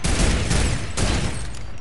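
A loud rifle blast in Fortnite booms up close and rolls into a noisy wash with a second burst about a second later, no voices over it.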